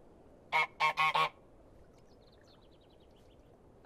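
Four loud, close goose honks in quick succession in Untitled Goose Game, followed by quiet with faint soft chirps and another abrupt honk at the very end.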